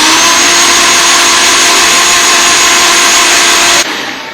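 A blender gives a smoothie a final blend, a loud steady motor whine running continuously before cutting off abruptly near the end.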